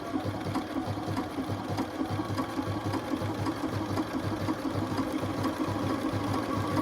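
A sewing machine stitches a shamrock appliqué in a steady, continuous run, with a close, even mechanical hum and rapid rhythmic needle chatter throughout.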